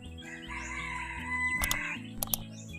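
A white kelso fighting rooster crows once nearby, a loud drawn-out call over a low rumbling background, followed by a couple of short sharp sounds near the end.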